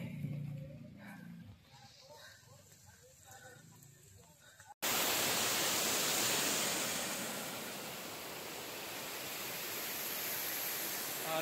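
A waterfall below the road during a descent near Lonavala roars as a dense, loud, steady rush, cutting in abruptly after a few seconds of quieter background with faint voices.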